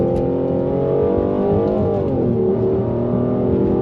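The engine of a recalibrated Mercedes GLC 43 AMG drones loudly and steadily from inside the cabin as it drops a gear. The pitch swells and sags under constant heavy road noise.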